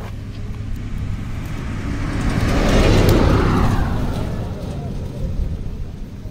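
A KTM Duke 250 Adventure motorcycle being ridden gives a steady broadband engine and road rush that swells toward the middle, then eases off, with no clear talk over it.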